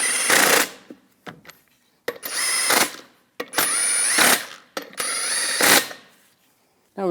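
Lug nuts on a Chevrolet Colorado wheel being snugged down with a power tool, four loud buzzing bursts of a second or so each, separated by short clicks and pauses.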